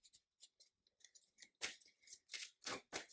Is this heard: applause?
no